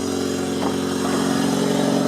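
Toyota TownAce van engine with a short aftermarket exhaust and custom air intake, running close by as a steady, throaty drone that holds an even level throughout.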